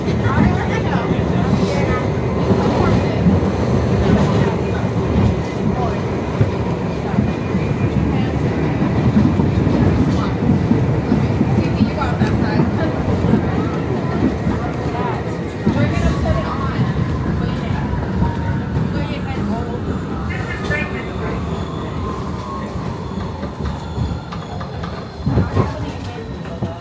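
A New York City subway train runs in winter, giving a steady, loud rumble with rattling clickety-clack from the cars and a rising whine late on, with voices faintly mixed in.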